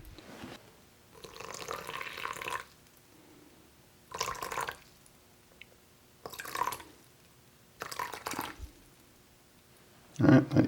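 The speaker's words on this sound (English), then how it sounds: "So next up we want to add the water." Water poured in short bursts into a dry ceramic glaze mix, four or five separate splashing pours separated by quiet pauses, fairly close and moderately soft, ending in a louder clunk.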